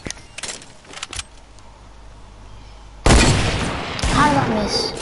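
A hunter rifle fired in Fortnite, sharp shots and clattering effects at the start, then a sudden loud blast and gameplay noise that swells and stays loud through the rest.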